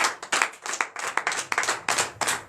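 Church congregation clapping in acclamation at a night deliverance service in Comè, Benin: dense, rhythmic group clapping in steady bursts, loud and close, with no speech over it.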